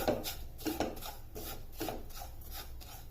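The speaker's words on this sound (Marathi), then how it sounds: "रवा मी मंद आचेवर दोन मिनिट थोडासा परतवून घेतला" Semolina roasting with ghee in a pan over a low flame, stirred with a spoon: close, rhythmic scraping strokes repeat about every half second, with no talk.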